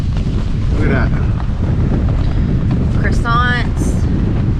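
Strong wind buffets the microphone at a lakeside campsite, a loud, steady roar of gusts filling the whole clip, with a few faint voices and clinks in the background.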